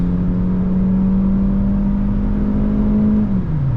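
A 2024 Hyundai Elantra SEL accelerates with a steady rising engine drone and whir heard from inside the cabin, holding an even tone before easing off near the end.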